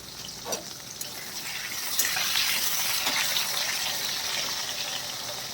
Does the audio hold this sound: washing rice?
yes